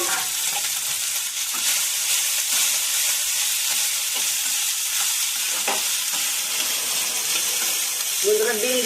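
Rice fries with mustard and turmeric in a pan, giving a continuous close sizzle broken by scraping stirs of a utensil. A voice begins briefly near the end.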